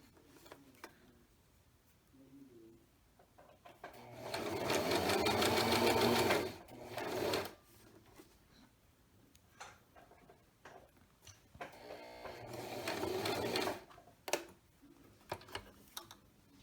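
A sewing machine reverse stitches on a reversible tote bag in two loud, rapid bursts with quiet handling clicks and pauses around them, close up.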